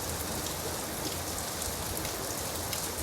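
Steady rain falls as a dense, even hiss of drops on surfaces, constant and moderately soft throughout with no voices or other sounds.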